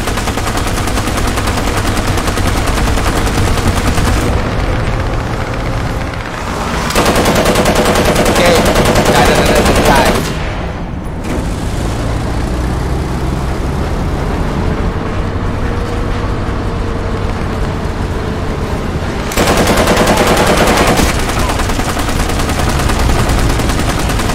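Anti-aircraft gun in War Thunder firing at aircraft: sustained, loud, rapid automatic bursts with short pauses between strings of fire, over a steady engine-like rumble. Nothing else competes with the guns for long stretches.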